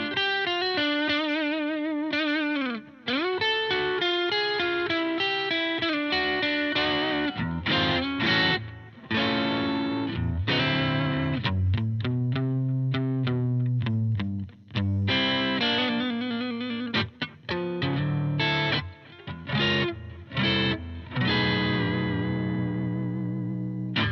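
Rivolta Combinata XVII electric guitar with light distortion playing a steady run of chords and single notes, loud and continuous with brief gaps, heard alone without any talking.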